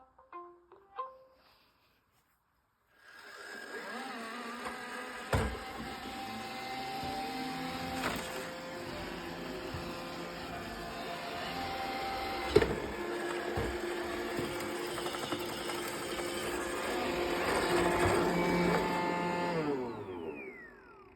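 A Roomba robot vacuum, fitted with a replacement vacuum motor, starts cleaning with its bin still full after a few short beeps, then runs with a steady whirring drone that climbs slightly near the end before it winds down.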